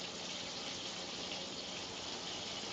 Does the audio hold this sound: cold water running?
yes